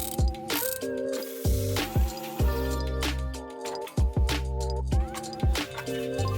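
A ratchet clicks in regular bursts of rapid pawl ticks, close and clear, as it works on 13mm bolts holding a brace under a BMW F30.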